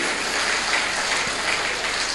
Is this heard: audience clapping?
yes